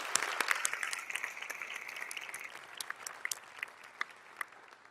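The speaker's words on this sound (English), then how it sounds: "Please join me in giving them another round of applause." An audience at an outstanding educators awards ceremony applauds after a performance, with a full burst of clapping that thins into scattered, distinct claps toward the end.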